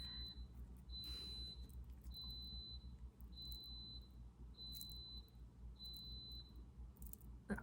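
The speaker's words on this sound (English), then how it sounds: "Oh, that's gonna beep for a second." A kitchen appliance cooking rice gives a series of six short, evenly spaced high beeps, clear but moderate in level, over a quiet room hum with no talking.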